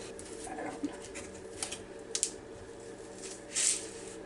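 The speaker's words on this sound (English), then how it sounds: "we're going to cut up the cantaloupe" A knife cutting up a cantaloupe in a kitchen, a few soft wet squishes and slicing sounds spread over several seconds, with a louder juicy squelch near the end, faint and close, and no talking.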